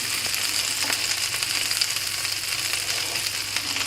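Egg-dipped bread frying in butter in a hot pan for French toast gives a steady, close hiss and crackle of sizzling that continues evenly throughout, with no talk.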